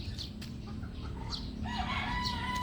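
A Bulik-breed rooster crows in the second half, fairly faint and somewhat distant, after softer chicken calls and background chirps.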